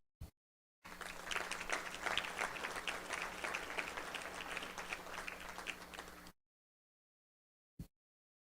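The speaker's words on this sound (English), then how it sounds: "let's give them a round of applause" Audience at a chamber of commerce annual meeting bursts into steady, dense applause that rises quickly, holds for about five seconds, then stops abruptly, with a faint steady hum beneath the clapping.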